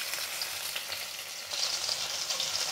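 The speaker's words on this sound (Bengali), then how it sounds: "এবার পেঁয়াজ দিয়ে দেব।" Potatoes fry in oil in a pan as onion is added, a close, steady crackling sizzle that swells louder partway through, no speech.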